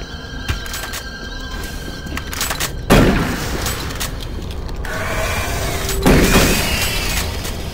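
Gunfire in the Doom 3 video game during co-op play: two loud, sharp blasts about three seconds apart stand out over a busy background of game noise.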